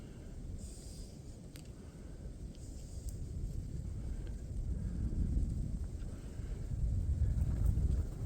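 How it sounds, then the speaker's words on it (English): Steady outdoor wind in a snowy hunting area, a broad low rumble that gusts and swells stronger toward the end, with no voices. "This wind is so perfect."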